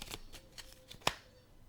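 Playing cards for a weekly fortune reading are shuffled and drawn: a few soft riffles and slides ending in one sharp snap, quiet and close, with no talking.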